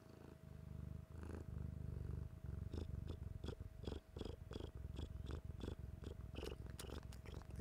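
A pet cat purrs right up against the microphone, a close, rhythmic rumble of repeated breaths cycling steadily with no talking.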